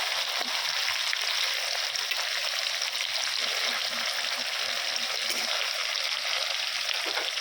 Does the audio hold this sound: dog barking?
no